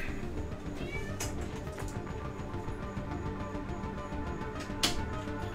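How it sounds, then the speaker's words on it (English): A house cat meowing indoors, with brief faint cries over a steady background hum from game audio. "I have to let my cat out of the room"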